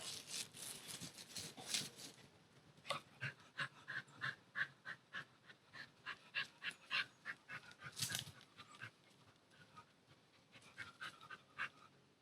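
A dog pants and sniffs close by in quick rhythmic bursts, with a few louder snuffles and short pauses between.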